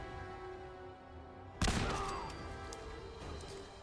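A grenade blast in Fallout 4 lands as one sudden loud boom mid-clip, trailed by a decaying rumble and scattered gunfire against steady game background noise.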